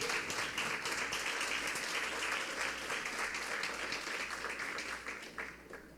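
A church congregation claps together in a thick, even wash of applause, heard from some distance, holding steady before tapering off near the end.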